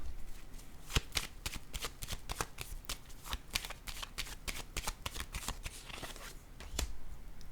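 A deck of tarot cards is shuffled by hand, rapid crisp riffling and flicking of card edges in quick irregular bursts, close and fairly quiet, with no talking.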